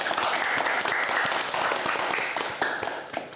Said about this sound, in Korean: 더 멋질 수 있도록 박수 한번 보내주시기 바랍니다